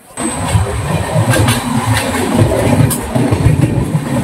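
Tamralipta Express pulling out of Santragachi Junction on the Howrah to Digha run, a steady close rumble of the moving train with rhythmic wheel clatter and a faint high whine above, continuous throughout.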